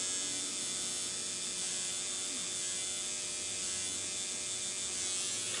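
A tattoo machine buzzes in a steady, high, continuous whine with a faint mechanical rattle throughout, fairly quiet and with no speech.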